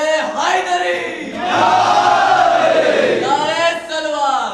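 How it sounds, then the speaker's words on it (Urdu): A crowd of young men at a majlis gathering chanting the religious slogan Naara-e-Haidari in loud, unified bursts: a leader's call answered by a massed shout, then another call and a roaring response, close and reverberant. "نوجوانوں ایک نعرہ لگائیے، نعرے حیدری"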